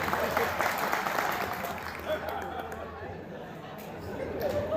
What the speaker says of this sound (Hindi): जितने सो रहे हैं एक बार ताली बजाइए